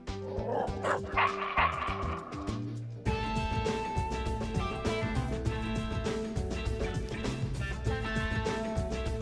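Dog barks and yips from the video game Constructor, sounding in quick repeated bursts early on, then giving way to a dense, loud stretch of game music and effects that continues to the end.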